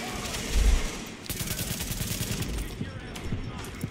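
Rapid automatic gunfire from a machine gun in Tom Clancy's The Division, a dense rattling stream of shots that starts loud, then keeps going as a steady burst with a short break near the middle.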